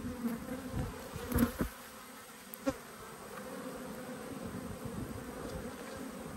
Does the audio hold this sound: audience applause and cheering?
no